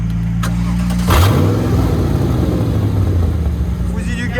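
A turbocharged BMW E36 engine idles, then blips and revs loudly up and settles into a rumbling idle, with someone speaking briefly over it.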